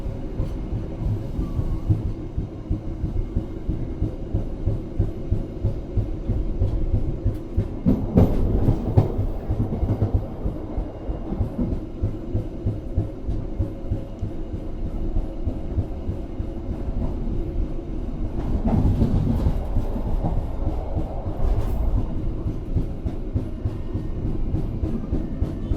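An economy-class passenger train travels between Jakarta and Jogja, heard from inside as a steady loud rumble with a rhythmic clickety-clack of wheels over rail joints and a few swelling rattles as the carriage rolls on.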